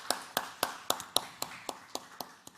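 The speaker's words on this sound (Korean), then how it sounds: "그럼 우리 마음을 우리 하나님 앞에 이 시간에 우리 감사의 박수로 들립시다" Around ten crisp, evenly spaced claps sound in a church service, quiet and unhurried like a small group giving slow thankful applause, with no talk over them.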